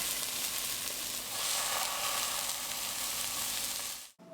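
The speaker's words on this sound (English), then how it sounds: "Add the lamb to the frying pan and cook for 3 minutes on each side until sealed and" A lamb roast sears in a frying pan coated with cooking spray, giving a loud, steady crackling sizzle throughout that cuts off abruptly at the end.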